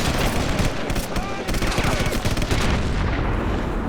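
Dense, continuous gunfire from a firefight in Sniper Elite, World War II shooter, with rapid overlapping rifle and machine-gun bursts that are loud and close throughout.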